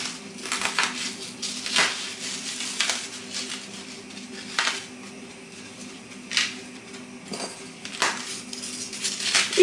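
Crisp meringues are crumbled by hand and sprinkled over an Alpine cube cake, producing a series of sharp crunchy crackles and light dry rustles, close, with quiet gaps between bursts.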